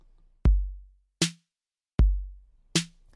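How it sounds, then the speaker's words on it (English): A plain rock beat: a deep kick drum alternates with a sharp snare, four even hits with silence between them and nothing else playing. "basic rock beat starts with the lower box and alternates that with the higher box"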